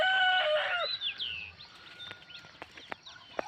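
A rooster crows close by at the start, then the crow fades into sharp bird chirps and clicks across a quiet outdoor background.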